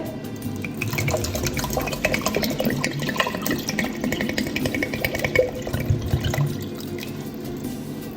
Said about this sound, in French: Je vais rajouter 350 ml d'eau, donc supplémentaire.